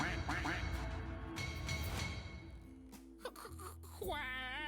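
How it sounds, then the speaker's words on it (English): A cartoonish duck quacks in the adventure game 3 Minutes to Midnight, with repeated nasal calls over dense game music and effects before a wavering, warbling tone at the end. "Quack!"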